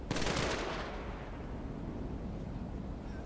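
A rifle volley from a firing squad at a funeral in the GTA video game, heard as one loud crack that tails off into a long, dense rumble and lingering noise.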